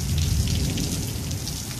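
A brief stretch of steady, even rainfall with a continuous hiss and dense patter on surfaces, with no other sounds.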